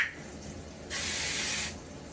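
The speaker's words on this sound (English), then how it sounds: "I'm gonna spray" A single short hissing burst from a spray bottle, close and clear, lasting under a second amid quiet room noise.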